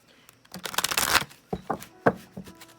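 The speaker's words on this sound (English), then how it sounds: "Another really big deck that is not easy to shuffle." An oversized tarot deck being shuffled by hand: a long riffling burst of rapid card flutters, then several separate slaps and short riffles, close and fairly quiet, with no talking.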